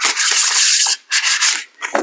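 Tarot cards shuffled by hand in fast bursts, three quick rasping riffles separated by brief pauses, close and crisp with no talking.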